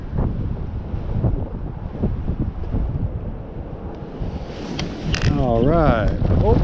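Gusty wind sweeps across a frozen lake during pike ice fishing, rumbling and buffeting the microphone up close in a steady roar that swells louder toward the end, with a faint wavering whistle near the finish.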